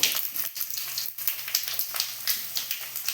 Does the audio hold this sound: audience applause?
no